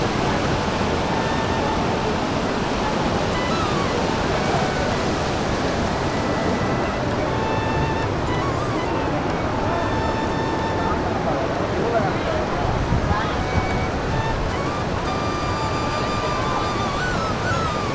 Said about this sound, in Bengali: এই যে দেখুন শুধু জলের গতিধারাটা একবার দেখুন পাহাড়ের উপর থেকে কিন্তু নেমে আসছে